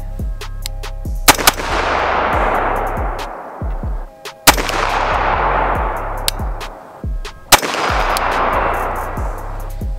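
A custom rifle fired while zeroing at 100 yards: three loud, sharp shots spaced a few seconds apart, each followed by a long decaying echo.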